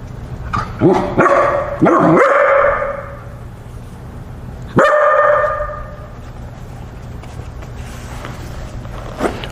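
A dog barks sharply at a newly arrived cat indoors, a quick run of loud, close barks followed by another burst after a pause, with faint room noise between.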